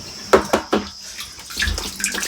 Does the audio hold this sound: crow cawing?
no